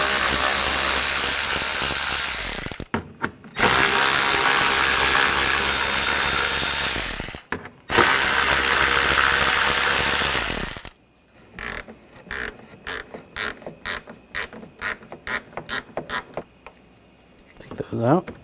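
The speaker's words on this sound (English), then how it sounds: "We're going to take these screws out. You're going to use a 8mm socket." Screws on a 2007-2013 BMW X5 front bumper around the parking sensors are loosened and removed with an 8mm socket on a power tool, long loud whirring bursts followed by a string of quick ratcheting clicks, close up.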